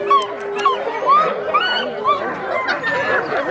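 A small husky puppy yips and whimpers in high, wavering cries, close by, mixed with background chatter from people.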